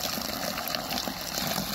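A garden hose runs water into a chicken water jug with a steady, continuous rushing hiss of filling water, close by and unbroken, without speech.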